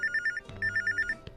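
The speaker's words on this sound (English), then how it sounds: "Someone's calling us. Where's the phone?" An old-fashioned telephone bell rings in a 1960s-styled video game scene, two bursts of rapid trilling rings separated by a short pause, fairly loud and alone over soft background music.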